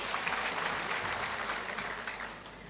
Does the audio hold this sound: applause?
yes